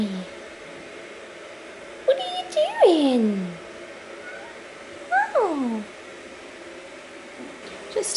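A pet cat meows twice, close by and clear, each call a falling, drawn-out cry a few seconds apart over a quiet indoor background.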